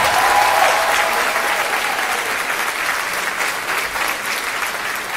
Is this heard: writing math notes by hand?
no